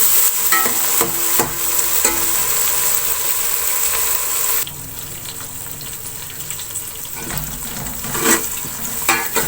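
Chopped tomatoes sizzle and fry in a hot pan for an aloo chicken curry, with steady frying crackle, occasional stirring scrapes, and a drop in intensity partway through; no voices.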